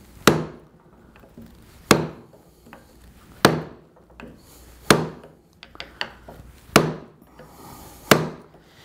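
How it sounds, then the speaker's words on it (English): A mallet strikes a chisel to cut a wooden dovetail, six sharp woody knocks at a steady pace with a few lighter taps between them, close and loud. "we'll go ahead and make another whack down this way"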